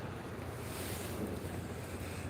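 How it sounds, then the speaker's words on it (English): A thruster engine aboard the freighter Wilfred Sykes entering the Soo Locks, heard as a steady low rumble mixed with wind buffeting the microphone and water wash, continuous and fairly distant with no talk. "The engine that runs their thruster there, that dark smoke."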